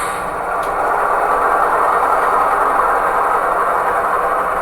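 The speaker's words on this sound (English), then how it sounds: "with the dynamic digital exhaust, you can hear that prime mover back off as my locomotive coasts to a stop" A model railroad diesel locomotive with a digital sound decoder plays a steady, rumbling prime-mover exhaust at close range, a continuous droning engine tone that holds level throughout with no talking.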